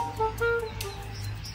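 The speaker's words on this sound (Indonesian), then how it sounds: "Di sini banyak burung" Birds chirp in a fruit orchard where red-leaf cherry plums are being harvested, with several clear tonal calls near the start and softer tweets scattered over a steady low rumble.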